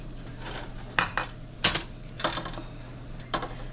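Pancake batter cooking in browned butter in a pan, heard as a few scattered clinks and scrapes of a utensil against the pan over a faint background hum, close and without speech.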